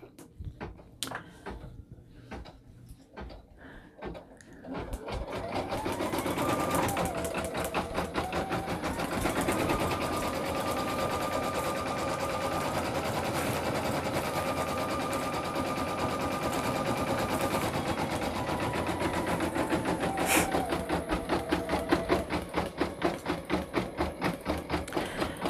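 An embroidery machine stitches a name onto a sewn hooded towel with an enclosed hood, running a loud, steady rapid needle chatter after a quieter start, with no talking.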